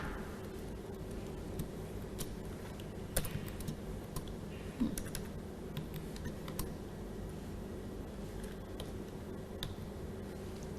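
Keys on a computer keyboard are typed in quiet, irregular bursts of soft clicks, with a few sharper taps standing out over a low room hum and no talking.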